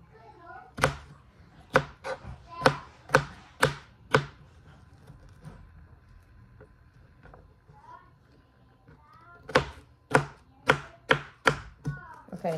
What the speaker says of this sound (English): at least I can cut a pepper